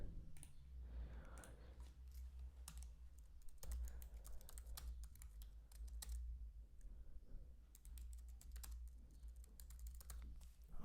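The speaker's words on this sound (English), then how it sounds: "let me rather write it, type it out" Steady typing on a computer keyboard, close and fairly quiet, with irregular clusters of key clicks and brief pauses, over a low constant hum and no voices.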